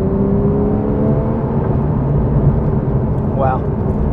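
A capable car driving and accelerating, its steady engine drone and road noise filling the cabin at an even, loud level while a person speaks over it.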